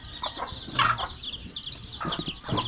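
Chickens cluck close by, a few distinct bursts of short calls separated by brief lulls, loud and near with no voices present.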